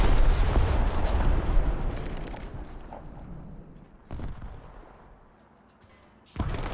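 Tank cannon fire in the War Thunder video game: heavy booming shots rip out loud and close, one at the start, then two more sharp blasts later, with rumbling decay between them.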